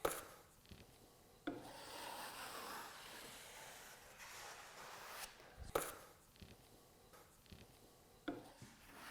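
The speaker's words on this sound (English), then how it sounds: "all I have to do is take my taping knives and remove the excess compound" Steel taping knives scrape excess drywall compound off freshly embedded paper-faced corner bead in close, rasping strokes, broken by a few sharp clicks and taps.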